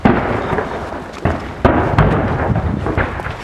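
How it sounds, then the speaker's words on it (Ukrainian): Heavy booming blasts hit in quick succession, deep rumbling impacts with a sharp crack among them and a constant roar in between. "Сепаратисти почали обстріл."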